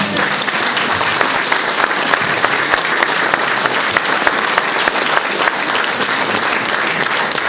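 A large crowd applauds steadily and loudly at a campaign office opening in Alès, dense clapping sustained throughout without pause.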